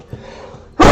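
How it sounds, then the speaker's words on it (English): A single loud sneeze bursts out suddenly near the end, close and sharp after a stretch of quiet low background. "That was probably a loud sneeze."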